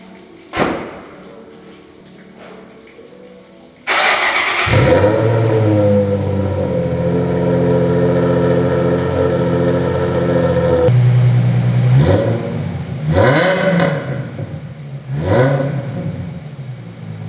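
Vehicles being started after winter storage: after a clunk and a garage bay door rolling open, an engine cranks and catches into a loud, close idle, followed by several revving bursts.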